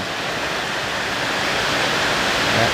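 Heavy rain pours down steadily on a windless night, a dense, even hiss of constant downpour with no gusts or breaks, unbroken for the whole stretch.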